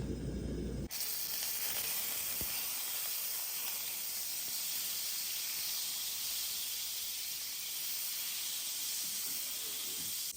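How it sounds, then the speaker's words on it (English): Butter hitting a hot pan for pork chops sets off an abrupt, loud, steady sizzle that starts after a moment and hisses on without a break, close by and with nobody talking. "followed by adding some butter"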